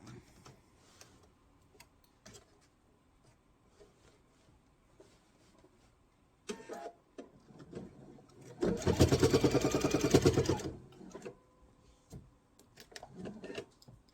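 A sewing machine stitches the binding along a table runner in one steady, dense burst of about two seconds near the end, with only faint handling clicks and quiet before and after.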